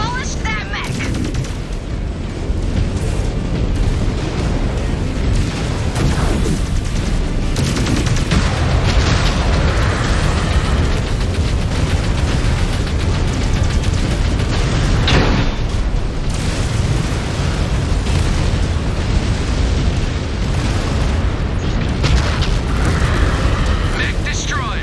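Mechs being blown apart in the MechWarrior 5 Clans video game: a dense, loud roar of explosions and booming blasts runs throughout, with sharper bursts standing out here and there.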